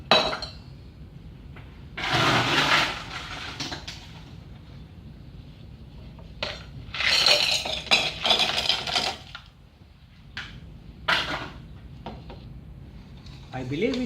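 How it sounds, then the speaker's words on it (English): Ice in a mixing glass is gently stirred for a gin cocktail, light clinking and rattling in uneven bursts, close but fairly soft, with quiet gaps between. "Now full of ice and need a gentle stir."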